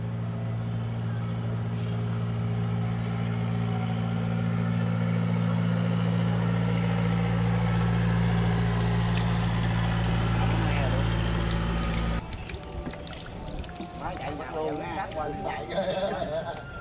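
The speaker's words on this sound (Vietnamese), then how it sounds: "Phương tiện vận chuyển cá linh cũng là một loại ghe chuyên dụng, dân trong nghề gọi là ghe đục." The engine of a ghe đục, a wooden fish transport boat carrying linh fish on the Mekong Delta in Vietnam, drones with a steady low hum for most of the stretch before giving way to rougher water and splashing noise. A voice talks over it.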